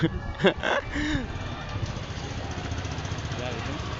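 Motorcycle engines idle and putter in a crowded market, a low steady rumble under the bustle, with a voice talking over it near the start.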